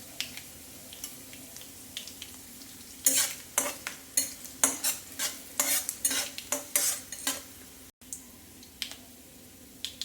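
Whole coriander seeds and spices roasted in a pan, with a quiet sizzle at first, then a run of loud, rhythmic scraping stirs of metal against the pan, a short break, and a few more strokes, no voices.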